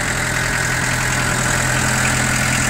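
A steady, loud Yanmar FX26D tractor engine idling, a constant low rumble with a faint knocking pulse and no voices.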